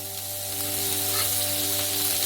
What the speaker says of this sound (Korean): 양파를 볶아주세요.